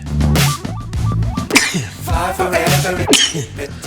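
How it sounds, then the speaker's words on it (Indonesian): A person sneezes abruptly amid ongoing speech, producing a sharp, loud, breathy burst, with a second smaller explosive sound shortly after while talking continues around it. "Aduh, maaf bersin."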